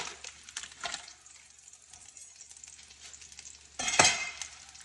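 Red onion softening in a hot pan with stirring, giving faint sizzling and scraping bursts, one near the start and a louder one near the end, with quiet gaps between and no voices.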